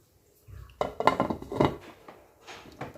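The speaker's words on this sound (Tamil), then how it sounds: "இப்போ மூடி போட்டு மூடிக்கிடலாம்." Metal lid set down onto a pot of ghee rice in a home kitchen, a few close clanks and rattles of metal on metal, followed by a brief scrape.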